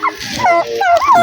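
A dog gives a short run of high, whiny yelps and yips close by, in a few quick rising and falling bursts.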